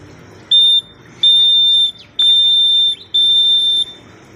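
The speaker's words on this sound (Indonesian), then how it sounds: "J itu terdiri dari titik garis dan bunyinya sebagai berikut" Four steady high-pitched electronic beeps, one short then three long, spelling the Morse code letter J (dot-dash-dash-dash), crisp and alone against a faint background hiss.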